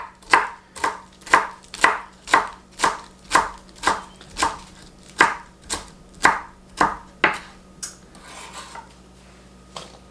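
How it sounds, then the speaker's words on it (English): A knife chops celery on a cutting board in a steady run of about sixteen sharp, close knocks that slow and soften toward the end, with no talking. "I'm sure you're good at chopping the celery."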